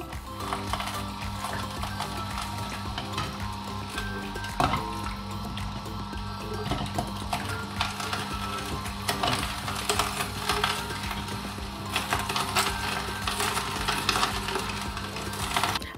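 An electric juicer runs steadily through carrot, ginger, turmeric and orange, giving a continuous whirring motor hum with rough grinding and spattering noise that stays even and close throughout, with no talking.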